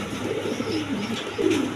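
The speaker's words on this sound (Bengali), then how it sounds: "এই যে দেখেন ড্যানিশ কবুতর" A Danish pigeon coos in a few soft rolling phrases, close and moderately loud over faint background hiss.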